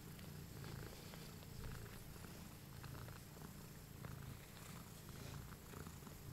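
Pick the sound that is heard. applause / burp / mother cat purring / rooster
mother cat purring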